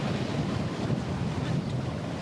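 Wind and waves rush steadily around a sailboat under sail at sea, a fairly faint, continuous wash with no clear voices.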